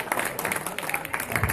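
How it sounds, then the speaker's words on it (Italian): Audience at a tribute show claps in a brief, moderately loud burst of applause with crowd murmur mixed in, lasting under two seconds. "fate un applauso"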